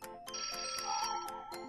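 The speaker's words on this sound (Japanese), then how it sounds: "電話鳴った、今。" A telephone ringtone sounds alone during a Japanese prank-game challenge: repeated bright electronic ring bursts in a steady rhythm, fairly loud and close, with a sustained melodic tone running underneath.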